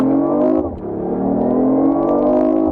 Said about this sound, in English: the inline 3-cylinder engine kicks in